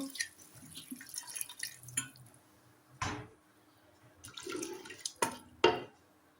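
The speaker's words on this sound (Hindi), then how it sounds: "पानी थोड़ा सा मैं ज़्यादा डालूँगी ताकि इसमें थोड़ा सा शोरबा भी हो" Water splashes and trickles in short bursts as it is poured into a cooking pot, with a few louder pouring gushes near the end, close by and without talk.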